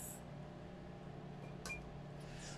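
A microwave oven hums steadily at low volume while heating candle wax, with a couple of faint clicks and rattles over the constant drone.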